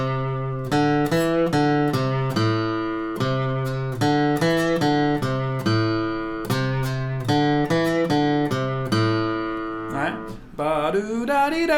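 A minor pentatonic melody picked on guitar, one clear ringing note at a time at a steady, even pace, heard alone and close, ending with a few quicker sliding notes.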